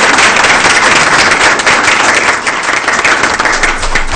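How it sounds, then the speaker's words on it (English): Steady applause from an audience at a school board meeting, dense clapping that holds at an even, loud level for about four seconds without a break. "So can we give them a round of applause"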